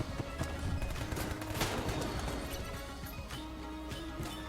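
A Mac-10 sprays rapid bursts of automatic fire in Enter the Gungeon, crackling shots repeating densely over busy game effects, loud and continuous with brief impacts mixed in.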